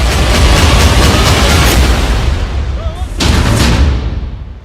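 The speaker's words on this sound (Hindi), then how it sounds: "डबल धमाका" Two loud, booming blasts from an explosion during the Israel–Hamas war, a first broad rumbling burst followed about three seconds later by a second, each with a long, noisy decay.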